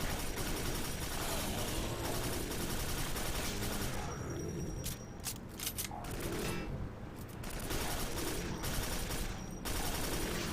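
Sustained machine gun fire in the video game Quake 4, dense rapid bursts at close range that briefly thin out midway before resuming.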